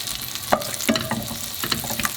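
Butter sizzles and fries in a pan as the base for an orange chicken sauce, a steady crackle with a few clinks of stirring, close and loud.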